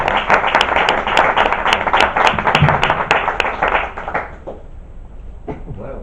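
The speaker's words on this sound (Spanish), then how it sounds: "Merece un aplauso." Audience clapping at a Spanish novel presentation, a burst of many hands with sharp individual claps standing out, fading after about four seconds to quieter room sound.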